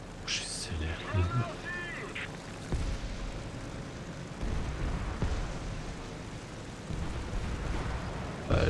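Jagdpanzer tank gun in War Thunder firing a few heavy booming shots over a constant low engine rumble and battlefield noise, with one short whistling sound near the start.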